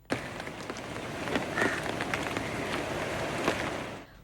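Continuous rain falls in Sri Lanka's central hill country during a period of flooding. It makes a steady hiss of drops hitting surfaces, with scattered sharper splashes, then fades out at the end.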